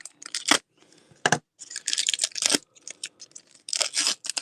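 Topps holiday card packs are torn open by hand in quick, ragged bursts of crinkly foil ripping, several separate tears with short pauses between, close and fairly loud, no talking.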